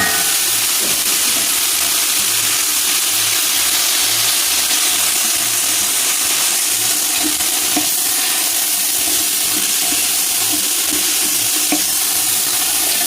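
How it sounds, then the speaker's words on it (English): Carrots and mixed vegetables sautéing in a pan give a steady, close sizzle and hiss with soft stirring scrapes throughout, no voices. "I'm gonna saute the carrots and the rest of stuff before I put the cabbage"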